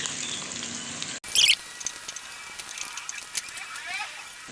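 Medium-sized onion frying in a pan for beef yakhni pulao, giving a steady soft sizzle with light crackles after a brief clatter as it goes in.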